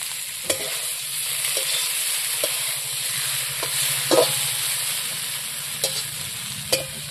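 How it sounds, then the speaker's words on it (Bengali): Fried eggs are dropped into sizzling spice masala for egg curry, a steady close frying hiss broken by scattered sharp spatula taps and stirring scrapes. "এখন আমি এই যে ভাজা ডিমগুলো দিয়ে দেবো।"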